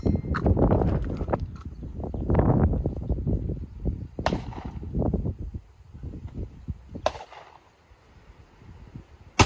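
Sharp, loud cracks of 7.62x51 M80 ball rounds fired from an 18-inch .308 AR at a coated AR500 steel plate 25 yards away, several separate reports with echoing decay between them and no talking.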